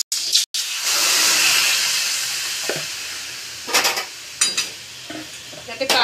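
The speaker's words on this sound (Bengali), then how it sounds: "এদিকে কড়াইতে আমি দেব ডুমুর সেদ্ধ করতে।" Figs go into a hot kadai to cook: a bright steady hiss and sizzle, dying down gradually, then a few sharp scraping and clattering stir strokes against the pan.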